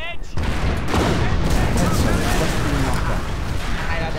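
Gunfire and explosions in the Company of Heroes strategy game roll on loudly and continuously, a dense burst of shots and booms filling the whole stretch.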